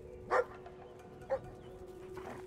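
A dog in the video game Brothers: A Tale of Two Sons barks twice, loud and near, about a second apart, then gives a softer third yip over a low steady hum.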